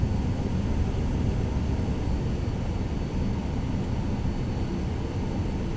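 Steady broadband propeller-plane engine drone from an aircraft taxiing off the runway in Microsoft Flight Simulator 2020, at a Kingston, Jamaica airfield, holding a constant loud rumble throughout with no other sounds.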